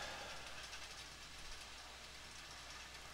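A train running along its track in Minecraft, a steady continuous rumble that holds at an even level from start to finish with no talk over it.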